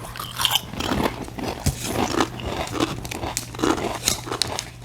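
Crunchy bites into a chip topped with hot sauce, with repeated crisp cracks and crinkling close to the mouth, followed by steady chewing with no talking.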